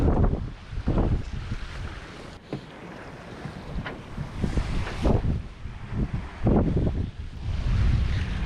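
A passenger ferry passes on Southampton Water, its engine and water rushing past under heavy wind buffeting, with loud gusts and splashing waves throughout; no voices.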